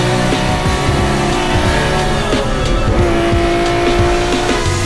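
A race car on the circuit at the Tour Auto 2024 event roars continuously at close range, its engine note loud and sustained, with tires squealing through corners and no talk.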